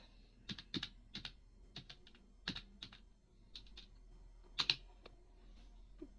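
A sudo apt-get update command typed on a computer keyboard in a Kali Linux terminal: crisp, close keystrokes in an irregular rhythm with brief gaps and a few firmer presses, and no talking.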